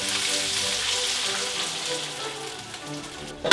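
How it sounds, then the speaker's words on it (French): Eggs sizzle in a frying pan on the stove for a scrambled-egg style dish, a steady crackling hiss close by, ending with a brief scrape. "On va faire un genre d'œuf brouillé."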